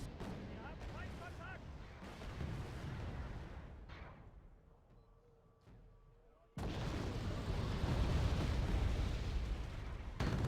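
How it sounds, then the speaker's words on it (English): Artillery in the Cold War strategy game Wargame: Red Dragon, with rumbling booms and crackling impacts at the start, a quieter lull, then a loud sustained barrage of blasts to the end. "And of course the artillery follows."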